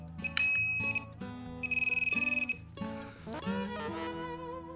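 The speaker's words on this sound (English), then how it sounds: "Now it won't vibrate, it just beeps." An XP MI-6 metal detector pinpointer with its vibration switched off gives a series of loud, close electronic beeps and tones, short bursts and one rapid warbling run, with no voices.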